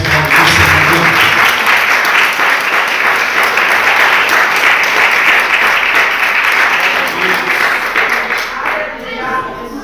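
Congregation applauding in a church service, loud, dense clapping from many hands sustained for nearly ten seconds, tapering slightly at the end with voices faintly underneath.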